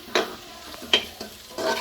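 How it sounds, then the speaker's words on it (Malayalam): Curry leaves sizzle and sputter in hot oil in a pan while being stirred, with sharp crackling bursts coming in uneven pulses, close and fairly loud. "നല്ലപോലെ അമ്മ വഴട്ടുന്നുണ്ട്."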